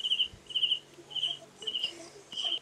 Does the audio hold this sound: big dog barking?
no